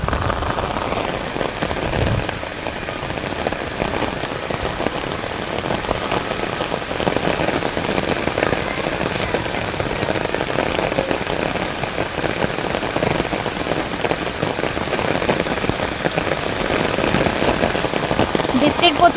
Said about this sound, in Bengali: বৃষ্টির প্রচুর শব্দ হইতেছে